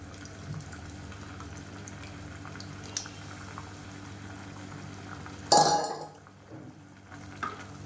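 Tamarind water poured into a simmering radish and drumstick kara kuzhambu: a faint bubbling simmer gives way to a sudden loud splash and sizzle that quickly fades, followed by quieter stirring.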